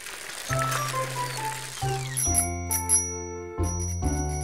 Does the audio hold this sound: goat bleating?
no